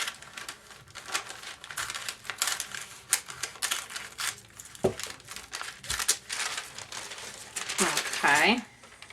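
Cut vinyl being peeled up from a car decal makes crinkling, crackling bursts and sharp tearing sounds, irregular and close, with brief pauses between pulls.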